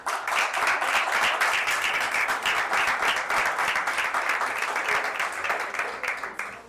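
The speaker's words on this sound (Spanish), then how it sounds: "Y le brindamos un aplauso a Cristo." A church congregation applauding during a Spanish-language service, dense sustained clapping from many people, close and steady for several seconds before tapering off at the end.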